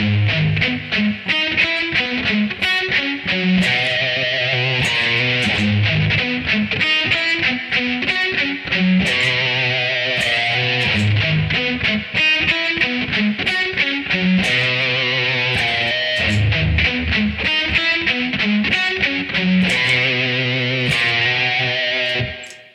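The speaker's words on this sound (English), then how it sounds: "I've got a flanger pedal model in there which tries to reproduce the classic MXR flanger" An electric guitar played through a Line 6 M13 modeling a classic MXR flanger rings out a distorted picked riff with sweeping, swooshing tone, loud and steady, no talking.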